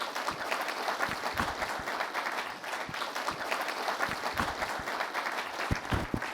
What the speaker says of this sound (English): Please welcome him with a round of applause.